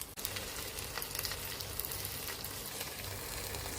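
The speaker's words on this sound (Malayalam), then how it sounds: "ഇതിന് നല്ല ഒരു ഫ്ലേവർ കിട്ടാനായി നമുക്ക് കുറച്ച് കറിവേപ്പില വെച്ച് കൊടുക്കാം" Fish fries in hot oil with curry leaves, a dense, steady sizzle with scattered crackles and pops throughout, close but fairly quiet.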